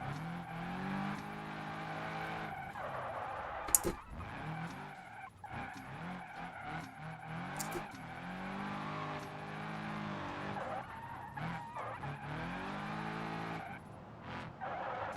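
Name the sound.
car drifting with tire squeal in a racing video game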